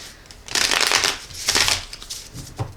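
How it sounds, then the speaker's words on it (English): Thick tarot cards being shuffled, giving a close, loud run of riffling and rustling bursts with a few swells over about three seconds and no talk. "They're a little thick, so they're like sort of hard to shuffle."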